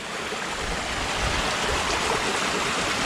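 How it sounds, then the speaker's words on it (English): Floodwater rushing over and around a waterfall on a walk, a dense, constant roar of churning water close by. "And there we go, water rushing"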